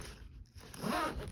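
A zipper on a North Face Base Camp Voyager 26L daypack is pulled open, a short close rasping zip that rises in loudness after a brief pause, heard alone.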